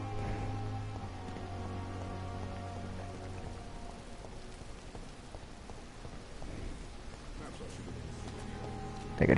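Steady rain pouring in the Vampyr video game, a dense, even hiss of drops on surfaces with a low rumble beneath, and a louder burst at the very end.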